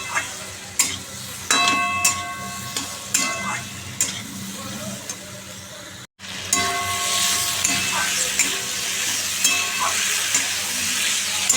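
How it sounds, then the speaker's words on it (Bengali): Spiced curry with salt and turmeric fries in a pan as a steady sizzle, with repeated sharp spoon scrapes and knocks against the metal and a brief gap partway through. "নুন দিয়েছি হলুদ দিয়ে দিয়েছি এবার একটুখানি এটাকে নাড়বো চাড়বো"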